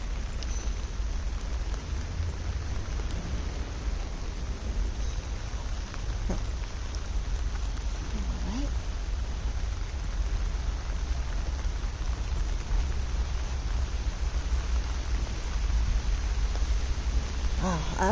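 Heavy, insistent rain pours steadily in a cemetery among broken-windowed mausoleums, a dense unbroken hiss that stays loud throughout with no pauses.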